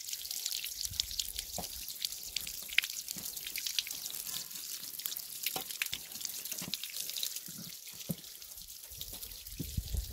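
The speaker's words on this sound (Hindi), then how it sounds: "ये चश्मों का और कुछ बारिशों का और ये इस तरह पानी यहाँ पे इन पहाड़ों में" Water from mountain springs and rain flows and trickles deep inside a mountain, a steady close splashing with scattered drips and no talking.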